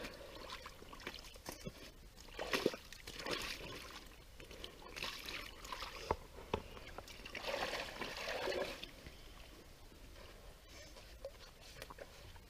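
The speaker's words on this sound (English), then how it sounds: "Just kind of put water up on it." Faint water trickles and dribbles steadily over ice, with soft splashes and scrapes scattered throughout, while setting a beaver trap.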